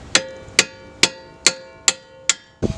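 Small hammer tapping bolts into a front strut assembly on a Chevrolet Traverse, six sharp metallic taps at an even pace, close and loud, followed by a duller knock.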